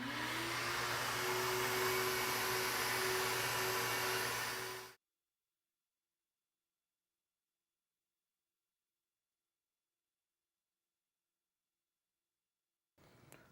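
A cylinder head fitted with 202 and 160 valves roars on an airflow bench, a loud steady whooshing blower drone with a rising tone that cuts off abruptly after five seconds, followed by silence and a faint clatter.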